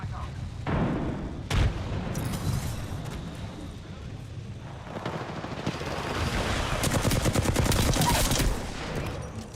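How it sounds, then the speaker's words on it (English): Video game gunfire, bursts of rapid shots and booming blasts scattered through a busy battle mix, with a voice speaking at times over the fighting. "They're firing on me. They're shooting at me."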